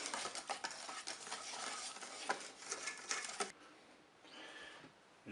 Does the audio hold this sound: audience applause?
no